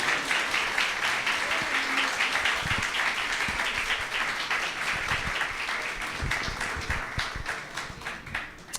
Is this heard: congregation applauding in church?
yes